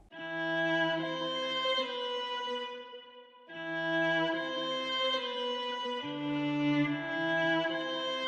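Sustained string chords in a UK rap beat swell and shift slowly in a rich, full layer, with a brief dip before the harmony returns and moves through new chords.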